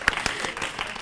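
Brief, light audience applause at a panel discussion, a patter of scattered claps that is moderately distant and fairly soft.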